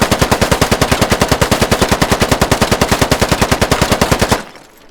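A rifle in the video game Squad fires on full auto, a fast, even stream of loud, close shots at roughly ten per second that cuts off abruptly after about four seconds.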